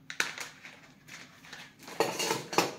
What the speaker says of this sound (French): Une spatule.